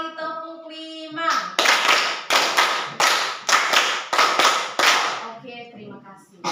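A classroom of students claps in a rhythmic pattern of five quick beats, done twice in succession, loud and close, with a brief voice at the start and end.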